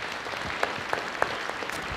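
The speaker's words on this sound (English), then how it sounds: "please give Chewon Lee a nice round of applause and welcome him" An audience at a Washington insurance commissioner's Affordable Care Act presentation gives a round of applause, a thin scattered patter of claps with a few sharper individual hits, fairly quiet and steady throughout.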